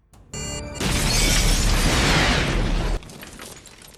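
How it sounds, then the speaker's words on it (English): A sudden roaring blast erupts and rumbles loudly for about two seconds before cutting off abruptly into quieter debris and crackle. "A massive explosion erupts, killing Harry instantly."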